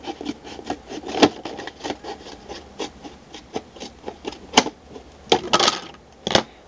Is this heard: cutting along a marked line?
yes